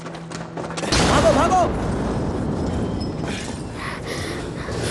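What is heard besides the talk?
explosion blast in a TV drama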